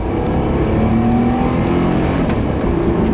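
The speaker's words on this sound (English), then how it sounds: "I'm gonna do a full throttle, see what happens." A Nissan Maxima with overheating and long cranking troubles roars steadily at full throttle, a loud, close and sustained engine drone with a gradually shifting pitch and no voices.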